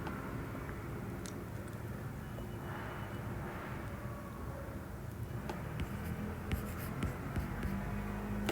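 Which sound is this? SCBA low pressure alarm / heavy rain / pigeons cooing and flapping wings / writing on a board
writing on a board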